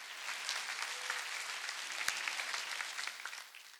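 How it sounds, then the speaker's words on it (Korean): A church congregation at a Sunday worship service clapping together, a dense, fairly soft patter of many hands with one sharper clap near the middle, fading slightly at the end. "믿는 사람은 박수치래."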